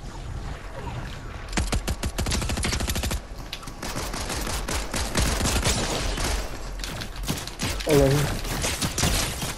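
Rapid gunshots in the battle royale game Fortnite, fast repeated bursts of fire, loud and close, with players talking over the shooting.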